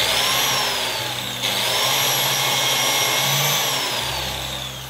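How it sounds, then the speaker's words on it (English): A biscuit jointer plunges a slot into a handleless kitchen door panel, giving a loud, steady whining motor hum close by that shifts pitch slightly as the blade cuts, then winds down. "And we plunge the biscuit slot."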